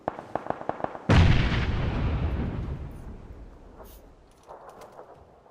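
In the video game PUBG, a burst of quick sharp pops leads into one loud, heavy explosion whose rumble slowly fades, with a softer blast following later.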